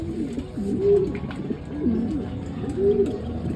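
Racing pigeons cooing near a loft as the first birds arrive from a training toss, several soft repeated coos standing out over a steady outdoor background.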